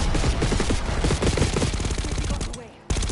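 Rapid automatic gunfire in the Black Ops 6 campaign during a street chase after a limo, a loud continuous stream of shots that cuts out briefly near the end before resuming.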